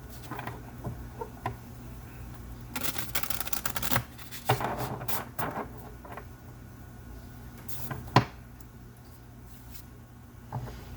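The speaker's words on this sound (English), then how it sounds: "So, one more shuffle." Tarot cards being shuffled in repeated papery riffles and soft slaps, with brief bursts of flicking and tapping, close by and moderately quiet.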